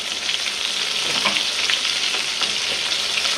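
Shrimp frying in oil in a pan, a close, constant hiss and crackle of sizzling with small pops throughout.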